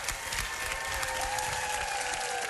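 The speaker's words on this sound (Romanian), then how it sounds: "aplauze, vă rog frumos" A TV show audience gives sustained applause for a singer, a dense, even wash of clapping from a large crowd throughout, with faint music beneath.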